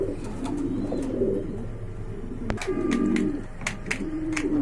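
A pair of big Mundian pigeons, one all black, coo steadily and close by in low, rolling, overlapping calls with no talking.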